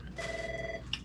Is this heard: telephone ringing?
yes